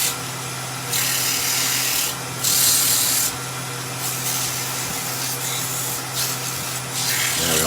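Sandpaper rubs against a wooden Christmas tree decoration spinning on a lathe, in several separate passes of gritty, hissing friction over the steady hum of the machine.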